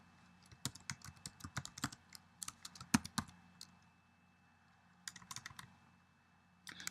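Bursts of typing on a computer keyboard, quick clusters of clicky keystrokes separated by short pauses, close and fairly quiet, with no talking.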